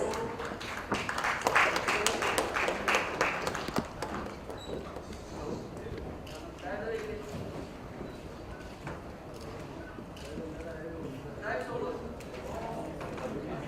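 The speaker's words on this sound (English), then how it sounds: "Please welcome them with a round of applause." Scattered clapping rises briefly from a crowd at a chess league launch event, then fades into murmuring and background chatter with some voices.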